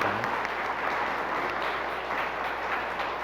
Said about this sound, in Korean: 꽃다발 전해 주실 때 큰 박수로 환영해 주시기